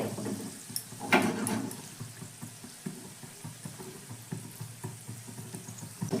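Snacks frying in oil on a gas flame set between medium and low crackle and sizzle steadily at a soft level, with a louder burst early on and light pops and clatter throughout.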